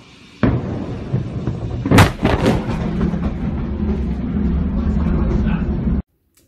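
A massive explosion of about 800 tonnes of ammonium nitrate at Tianjin port, China, in August 2015: a sudden loud onset, a sharp blast peak, then a sustained roaring rumble that cuts off abruptly.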